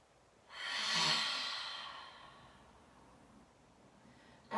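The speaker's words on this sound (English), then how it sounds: "Exhale through your mouth." One long, soft exhale through the mouth during a yoga flow, breathy and close, swelling quickly and then tapering slowly into quiet.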